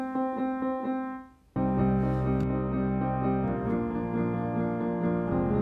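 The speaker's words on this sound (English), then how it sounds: "It's called Doubler. It's smaller in size and doubles the input signal." Piano riff processed through the Doubler preset of the Convolverb reverb plugin in n-Track Studio, a short pause giving way to full sustained chords with a doubled, thickened ring, played alone without voices.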